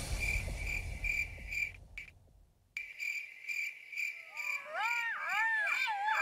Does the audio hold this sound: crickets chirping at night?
yes